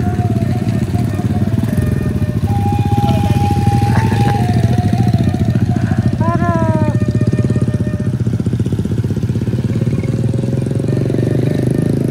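A motorcycle with dual-purpose tires chugs steadily at close range throughout on a foggy route, with a brief high whistle or bird-like tone rising over it.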